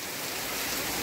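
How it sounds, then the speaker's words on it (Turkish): Steady rain pours outdoors, a dense unbroken hiss over about a second, growing slightly louder at the end. "Gerçekten çok güzel yağıyor şu an."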